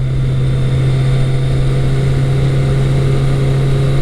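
A Kawasaki ZL900 Eliminator muscle cruiser runs hard above 6,000 RPM, a loud steady high-revving engine drone with continuous wind rush and no speech.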